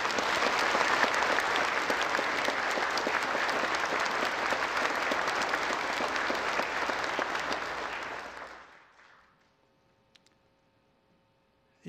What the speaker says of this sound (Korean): 우리 다시 한번 뜨거운 박수를 드리겠습니다.